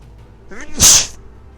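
A single sharp sneeze bursts out close to the mic, with a brief sharp intake of breath just before it, then quiet.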